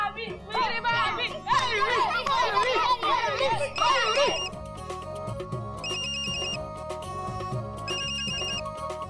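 Mobile phone ringtone signalling an incoming call, a bright electronic melody that plays in repeated bursts over a low backing beat, loud and close, with voices chattering in the background during the first half.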